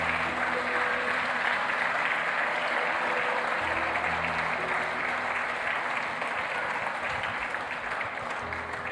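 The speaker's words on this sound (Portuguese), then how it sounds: "Pode aplaudir Jesus também" A church congregation applauds during a worship service, a steady, dense wash of clapping hands that runs loud and continuous for the whole stretch with no voices rising above it.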